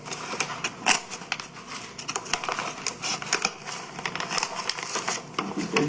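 Rapid, uneven snipping and crunching of dull scissors working through material, a dense run of close clicks with no voices.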